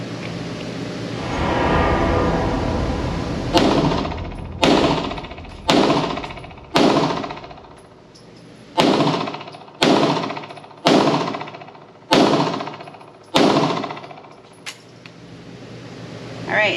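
Hi-Point YC9 9mm pistol fired outdoors, nine sharp, loud shots spaced about a second apart, each with a short echoing decay, following a stretch of rumbling noise.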